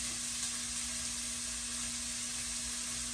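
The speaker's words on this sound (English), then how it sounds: "you can hear that sizzling up" Onions frying in butter in a pan on fairly high heat, a steady close hiss and crackle with a faint hum underneath and no talking.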